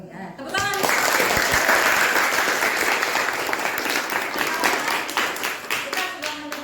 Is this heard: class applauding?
yes